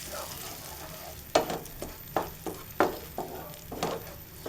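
A blended tomato, garlic and onion masala frying in oil for a prawn bhuna, heard as a soft sizzle broken by a series of sharp spatula scrapes and stirs at an irregular rhythm, close and without talk.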